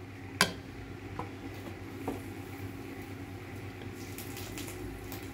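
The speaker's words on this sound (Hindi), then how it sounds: "थोड़ा सा हम इसमें पानी डालेंगे।" Quiet, steady trickle of water into a metal pot of cooking Hyderabadi chicken masala, with a couple of light clinks, and no voices.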